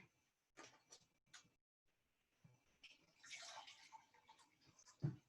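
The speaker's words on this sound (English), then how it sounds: "I'm going to add my 1 cup of vinegar" One cup of vinegar being poured into a jar for pickling: a quiet splash and trickle of liquid builds in the middle, among faint handling knocks, ending in a louder clunk, with no voices.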